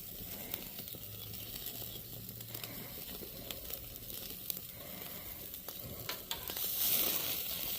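A ribeye steak sizzles on a very hot ember grill, a steady close hiss and crackle of fat with small pops, continuing alone without talk.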